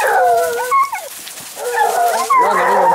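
Hunting dogs trailing a hare in the countryside give loud, close, high baying howls and yelps in several overlapping bursts, with a short lull in the middle.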